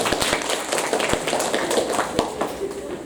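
Classroom applause from students as a group is welcomed: a dense patter of hand claps with sharp individual taps, fairly close, while voices murmur beneath.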